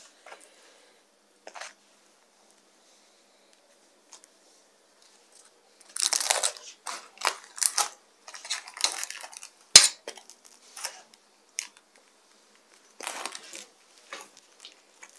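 Freshly baked spinach börek filled with plain strained yogurt, its crisp pastry crackling and crunching in short bursts as it is cut open with cutlery, with quiet gaps between the bursts.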